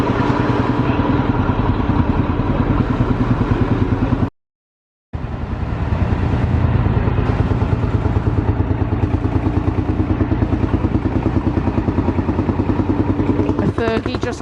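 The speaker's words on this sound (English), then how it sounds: "we've got the tractors coming in now with the field marshal. It's distinctive dub dub dub dub dub dub dub dub dub." A vintage Field Marshall tractor at a classic transport festival runs with a loud, slow, rhythmic single-cylinder thump, continuing steadily apart from a short break, with other engines and voices mixed in around it.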